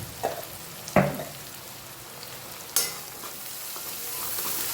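Onions frying with red chilli, turmeric, coriander-cumin and salt in a pan, stirred three times with sharp clatters over a steady close sizzle that brightens toward the end.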